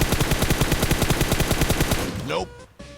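Automatic gunfire in PUBG Mobile: a rapid, evenly spaced burst of loud, close shots runs for about two seconds, then stops abruptly, leaving a few faint sounds.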